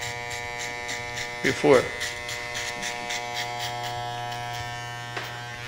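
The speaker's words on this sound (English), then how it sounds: "It's an adjustable clipper, all the way open." An adjustable hair clipper, opened all the way, buzzes steadily and closely while cutting hair for a skin fade, and someone speaks briefly over the constant hum.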